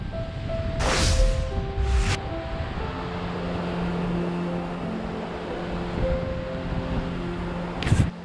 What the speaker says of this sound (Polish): Mówiąc słowa święta, od razu zerwał się wiatr.